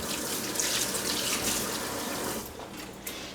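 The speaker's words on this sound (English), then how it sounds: "I'm gonna rinse my hands off a little bit" A kitchen tap runs as hands are rinsed beneath it, a loud, close steady splashing stream that cuts off abruptly near the end, leaving a quieter moment with no speech.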